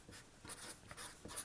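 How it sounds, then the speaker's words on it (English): Pen on a sheet of paper gives soft, scratchy strokes in short bursts, close and quiet, with no talk over them. "I write on the piece of paper"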